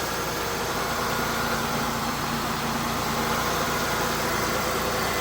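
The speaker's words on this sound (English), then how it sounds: "LeSabre is running again." A Buick LeSabre car engine, newly fitted with spark plug wires, idles steadily and continuously, a close, even mechanical hum with no pauses and no voices.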